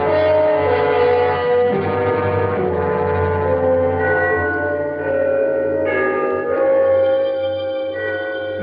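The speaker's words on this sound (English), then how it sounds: "The bells of Trinity had just run the 3/4 hour." Church bells of Trinity ring out the three-quarter hour in a city, a loud, sustained chime with overlapping resonant tones and no voices.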